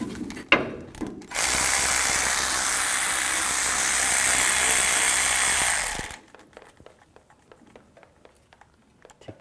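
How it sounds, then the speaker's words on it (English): Ratchet driving a 14mm socket to take a brake hose bolt off a Ford E-250 rear brake caliper, heard as a loud, steady mechanical whir for several seconds, then scattered light clicks and rattles once it stops. "So very quickly, I'm gonna take my 14mm socket,"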